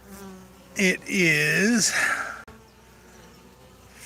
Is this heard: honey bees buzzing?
yes